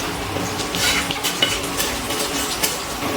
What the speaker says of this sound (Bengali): ভালো করে নাড়াচাড়া করে সব কিছু মিশিয়ে নিচ্ছি